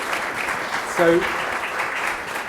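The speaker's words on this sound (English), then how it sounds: "big applause for the dubbing mixer" Audience applause at a film craft summit session, a steady moderate wash of clapping with a single brief spoken word from a man near the middle.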